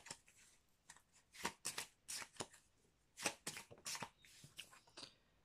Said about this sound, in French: je vais prendre des cartes dans l'ombre et la lumière